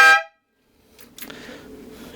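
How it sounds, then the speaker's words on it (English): Air horn fitted to a Suzuki GSX-R 600 motorcycle and wired through the stock horn relay gives one short, loud, harmonic blast at the start. A quieter rustling background noise follows after a pause. "how to install air horns on your bike"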